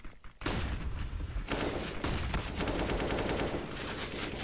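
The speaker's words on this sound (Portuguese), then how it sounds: "trocando tiros com o primeiro jogador" Gunfire exchange in a Counter-Strike match on the Nuke map, with a dense, loud burst of rapid automatic shots that starts abruptly and continues in sustained volleys.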